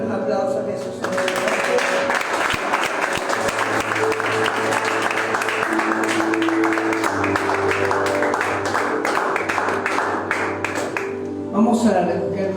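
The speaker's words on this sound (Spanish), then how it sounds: "Un aplauso a Jesús, Señor." Congregation applause for Jesus during an evening church service, a sustained wash of clapping from many people blended with music and held organ-like tones, loud and continuous, with voices rising near the end.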